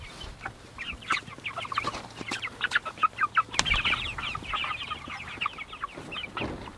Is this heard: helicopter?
no